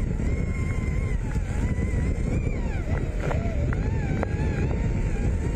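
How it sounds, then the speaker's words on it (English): Heavy, constant hurricane wind from Hurricane Beryl roars and buffets the microphone throughout, low rumbling dominating, with faint whistling tones drifting above. "that is quite the gust of wind there that is coming through"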